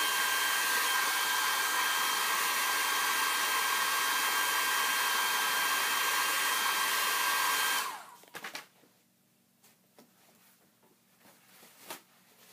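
A hair dryer drying cold porcelain clay runs as a loud, steady, close whooshing drone for about eight seconds, then switches off, leaving a few faint taps and handling sounds.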